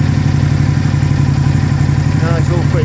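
A 2007 Aprilia Tuono 1000R motorcycle idles after a winter start-up, its engine holding a steady, close, even low throb throughout while a voice speaks briefly near the end.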